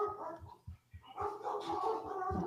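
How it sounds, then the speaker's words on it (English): Dogs barking at home at a delivery, with repeated barks and yips at a moderate distance under a quieter room background. "You can hear my dogs barking."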